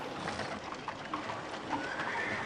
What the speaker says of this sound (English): Oh, that's horses on savanna.